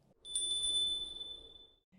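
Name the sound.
clear ringing bell or wind chime sound effect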